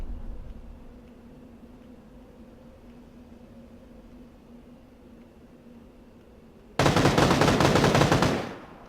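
Machine gun fire in a video game battle: after a stretch of low ambient hum, a loud, dense burst of rapid automatic fire erupts and runs for about two seconds before cutting off.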